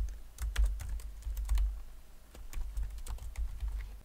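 Typing on a computer keyboard while working in Excel: rapid, uneven clusters of close, crisp key clicks with a brief pause partway through, and no voice.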